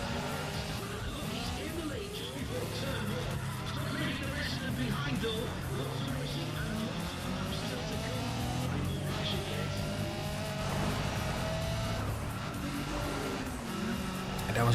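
Race cars overtaking in Need for Speed ProStreet, a street racing game, with steady engine roar and tire noise running throughout, under continuous talking.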